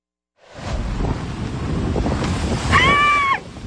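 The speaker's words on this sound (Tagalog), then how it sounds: "lumakas ang hangin at lumaki ang mga alon sa Municipal Fish Landing sa bayan ng Pio Duran sa Albay" Strong wind roars with crashing waves at the municipal fish landing in Pio Duran, Albay, a continuous loud rumble starting after a brief silence, with a faint high whistle near the end.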